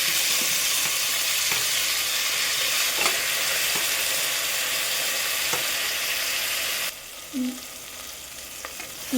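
A handful of mint and coriander leaves fries for biryani after garlic paste has gone into the pan, giving a steady close sizzle with a few faint stirring clicks. Partway through, the sizzle softens and a brief bubbling note comes through.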